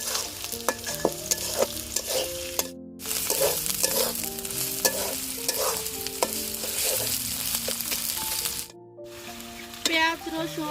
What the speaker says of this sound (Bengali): জিরা বাটা পেঁয়াজ রসুন আদা জিরা ভালোভাবে ভেজে নিব যাতে কাঁচা গন্ধটা না আসে